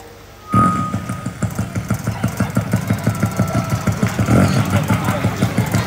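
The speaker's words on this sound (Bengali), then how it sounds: "আমি এই বাইকটার ইঞ্জিন আপনাদের সামনে একটু চেক করব, দেখি ইঞ্জিন ঠিক আছে কিনা।" A motorcycle engine, tested as part of a quick engine check, starts abruptly and settles into a steady, close, pulsing idle with regular beats. A voice is faintly audible underneath.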